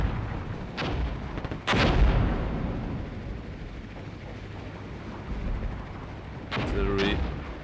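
Artillery fire in the Cold War tactical game Armored Brigade 2: two heavy booming blasts early on, then a louder rattling burst near the end, over a steady rumbling battlefield background.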